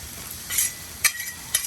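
Jambalaya pasta sizzles on a hot griddle, with brief scraping and stirring bursts as a utensil spreads it out, three short crackling swipes over a steady low fry.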